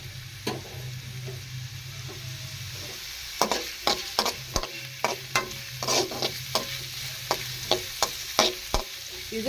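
Onions frying in a pan, with a steady sizzle throughout and a series of sharp scraping stirs from a spoon, repeated at a fairly regular pace and heard close up with no talking.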